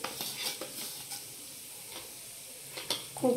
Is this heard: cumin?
yes